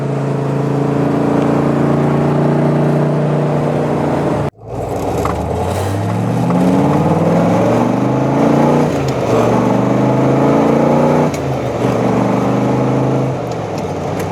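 A powerful 1967 Corvette engine rumbles and revs, briefly cutting out before accelerating through rising gear pulls with a deep, throaty roar.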